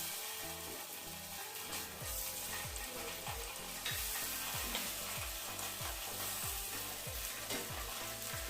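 Sardines coated in packet fish-fry masala frying in a pan, a steady bright sizzle running throughout, joined by a rhythmic series of low mechanical clicks or thumps in the background.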